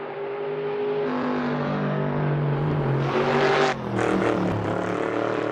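A race car accelerates on a soaked, slippery track, its engine a loud, continuous droning rev that climbs steadily, briefly drops at a gear change, then pulls on again.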